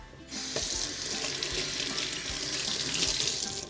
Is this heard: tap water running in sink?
yes